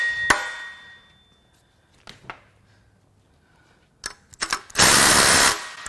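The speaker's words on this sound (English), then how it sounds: "The safest way to do this is to use an impact in a worn out socket" An impact wrench fitted with a worn socket hammers at a bolt on a Toyota Tundra 5.7L V8 engine. A few sharp clanks are followed by a loud, sustained rattling burst near the end, close up with quiet gaps between.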